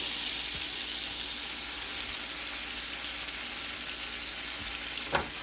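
Half a stick of butter melts in a hot pan with a soft, even sizzle that holds steady for several seconds, ending in one small clink near the close.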